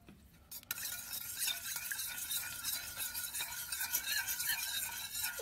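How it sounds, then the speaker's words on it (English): A spoon stirs a dog-treat mixture with egg steadily in a bowl, a continuous scraping, swishing texture with faint clinks, close and moderately loud, no talking. "I would say a good 15 to 20 seconds of mixing."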